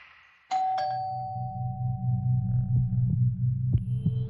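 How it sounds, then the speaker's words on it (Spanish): A house doorbell rings late at night with a sharp two-tone chime, followed by a sustained low hum and a few faint clicks, close and otherwise quiet. "me parece que al día siguiente el timbre sonó"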